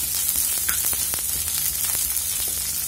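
Cabbage, capsicum, onion and green chillies sauté in hot oil with fennel seeds for a bread roll filling, a loud, dense and continuous sizzle with light stirring taps throughout.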